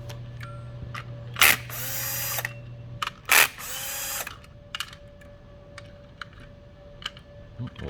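A power drill backs out the four outer panel screws on a GDX-Cart during encoder wheel replacement, with two short loud whirring bursts and a longer run between quieter clicks and handling noises, heard close up.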